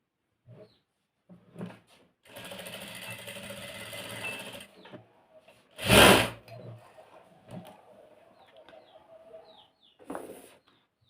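A sewing machine stitches an upholstery cover for a corner sofa in bursts: a long run of stitching, then a sharp loud burst, then a brief final run, with quiet gaps between.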